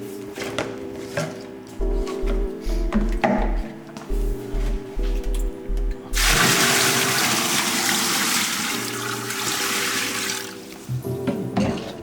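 Water pours into the tank of an ADJ Entour Ice or Chauvet Nimbus ice fog machine, a loud broad rush that starts abruptly at about six seconds and runs steadily to the end, after earlier bumps and clatter of handling the container.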